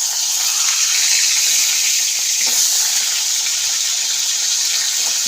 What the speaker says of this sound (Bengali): এবার মাছটা দিচ্ছি। একটু ভাজা ভাজা হয়ে কিছু কড়া করে ভাজবে।